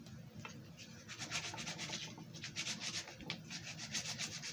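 Coarse-grit sandpaper rubbed over a carved mahogany dragon, close and fairly soft, in quick repeated back-and-forth strokes that come in short bursts, with no one talking.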